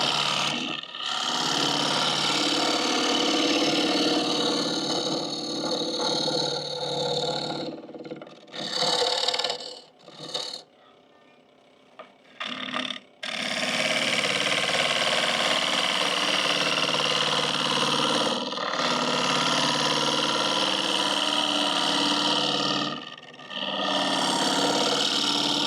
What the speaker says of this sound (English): I think I'm overhung a little bit and getting some vibration and some kind of chatter just from being extended past the tool rest